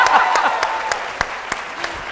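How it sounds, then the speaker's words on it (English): A conference audience at a marketing and diversity event applauds, starting as a dense burst of clapping and thinning to a few scattered sharp claps, with a voice briefly audible near the start. "Can we give a round of applause for the fashion?"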